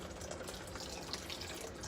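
A cup of cold water poured into mushroom soup on the stove, a soft continuous splash and trickle, close but fairly quiet, with no voices.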